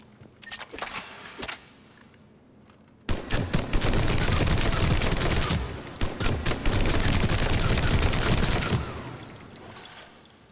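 Typhoon weapon in Mass Effect 3 firing at targets: a few separate shots, then a long, loud, rapid automatic burst of several seconds that stops abruptly, followed by quieter scattered sounds.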